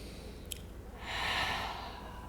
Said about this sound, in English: then really emphasize the exhale. Make it bigger.